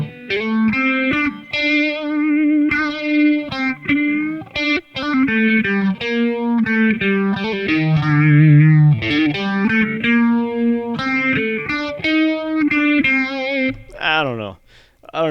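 Distorted electric guitar played through a Phase 90 phaser pedal at slow speed on a Boss Katana amp, the tone swirling and whooshing as sustained notes and riffs ring out loudly.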